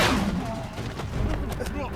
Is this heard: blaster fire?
yes